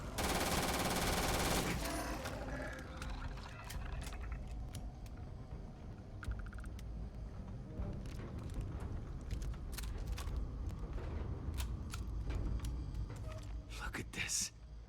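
Rapid automatic gunfire erupts at the start of a video game shootout against creatures, followed by scattered shots, clicks and mechanical clatter at lower level.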